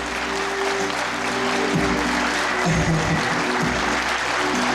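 An audience at a dance ensemble's fifteenth anniversary concert claps loudly and steadily throughout, a dense wash of applause with faint musical tones underneath.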